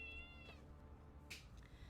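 A house cat meows close by, two short calls with a brief pause between them, heard alone over a quiet low background hum.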